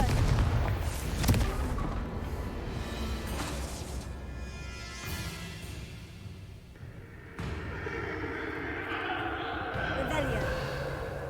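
Confringo blasting spell in a Harry Potter video game, a sharp explosive crack and booming blasts amid rumbling game effects, with a person talking throughout.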